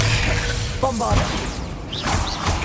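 A Bombarda spell cast in Hogwarts Legacy, near the start of a dim chamber with bones and a sarcophagus, producing a muffled whooshing burst and crash under steady ambient game sound, with faint voice traces.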